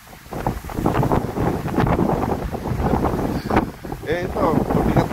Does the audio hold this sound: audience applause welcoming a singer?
no